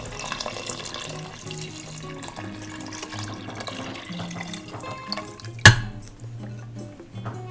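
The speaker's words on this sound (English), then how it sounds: "We add our chicken stock here. This is 4 cups of chicken stock plus 1 cup of water." Chicken stock and water are poured into an Instant Pot as a soft, continuous liquid trickle and splash, with a sharp knock near the end.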